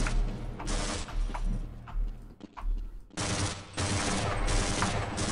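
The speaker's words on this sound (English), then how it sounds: "Screw it, just use a pistol." Rapid gunfire in the video game Half-Life: Blue Shift, dense bursts of sharp reports in quick succession, broken by short pauses, then resuming loud and sustained.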